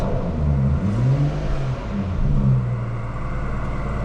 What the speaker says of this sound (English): these B58 straight six turbos do sound absolutely glorious